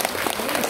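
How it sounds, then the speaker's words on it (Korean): A church congregation applauding its choir, a dense, steady patter of clapping filling the hall for under a second. "우리 뜨겁게 한번 박수합시다."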